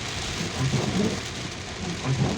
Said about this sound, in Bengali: এই কতদিনের অসম্ভব গরম কাটিয়ে ওঠার জন্য আল্লাহ আমাদেরকে রহমতের বৃষ্টি দান করেছেন